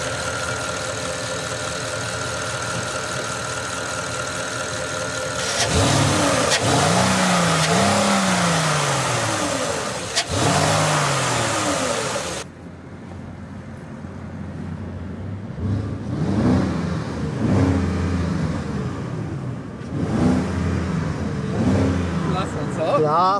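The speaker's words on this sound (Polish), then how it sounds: "Przegazować teraz?" A 500-horsepower turbocharged car engine idles loudly, then climbs through a series of sharp revs with rising and falling pitch, close by, with voices talking over the engine noise.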